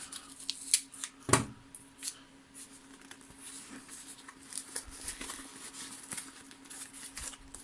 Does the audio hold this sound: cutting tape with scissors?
yes